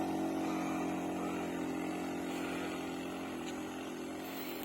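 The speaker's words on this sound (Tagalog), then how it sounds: "Hirap na hirap nga ang motor eh." A motorcycle engine strains steadily at high revs while climbing a steep slope, a loud, continuous drone close by with no pauses.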